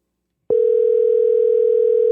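A steady telephone dial tone starts abruptly after half a second of silence and holds at an even, loud level to the end, with no voices.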